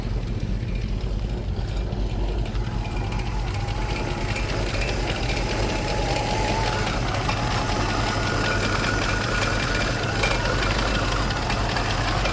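A 1965 Ford Mustang engine runs just after a new alternator is fitted, holding a steady, close idle with a continuous rumble and faint knock throughout.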